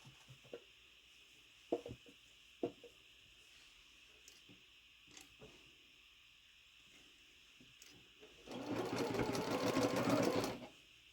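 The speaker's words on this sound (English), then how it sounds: "Now we can sew these 2 together." A sewing machine joins the pieces of a sailboat quilt block in one steady run of about two seconds near the end, preceded by quiet handling clicks and fabric shuffling.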